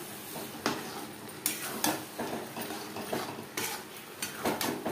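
Chicken ghugni with tomato sauce is stirred in a pot, a spoon scraping and knocking against the metal in repeated bursts over a soft sizzle.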